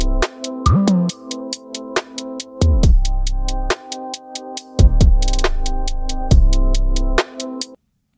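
A gritty, detuned electronic beat converted from MIDI to audio, with punchy kicks, sharp snappy hits and a buzzy filtered bassline, looping steadily and loud with no voices.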